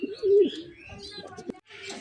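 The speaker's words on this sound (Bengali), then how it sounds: "বোম্বাইয়ের যে কবুতর দেখালাম তার রানিং বাচ্চা এটা, এই জোড়াটা" Bombay pigeons, a young pair, give soft low cooing calls close by, with a few brief chirps and rustles between the coos.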